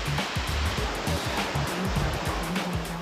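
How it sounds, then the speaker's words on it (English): High-pressure water is pumped across the foam slide surface of an inland surfing ride, a loud continuous rushing surf roar with rhythmic low pulsing thumps underneath and no voices. "we're injecting huge volumes of water across"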